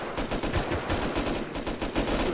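Automatic gunfire in the video game Rust, dense rapid bursts of shots fired close by, loud and sustained over a couple of seconds with brief uneven gaps and no speech.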